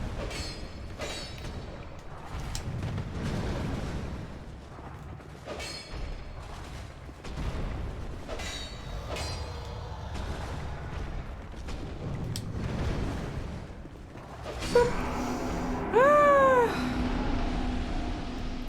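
A golem enemy collapsing as it is defeated in Dark Souls 2, with heavy booming thuds scattered through the action and a rising, wailing cry near the end; the game sounds are loud and continuous, with no talking.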